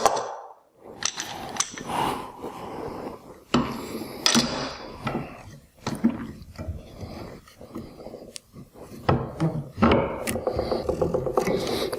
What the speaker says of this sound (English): So I'll just go ahead and clamp this now.